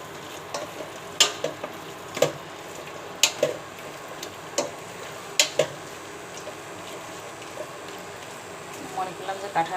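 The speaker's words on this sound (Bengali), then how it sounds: "আরেকবার নেড়ে দিই।" Jackfruit curry sizzles softly in a pan while it is stirred, with a low steady frying hiss and several sharp spoon clicks against the pan; a person speaks over it.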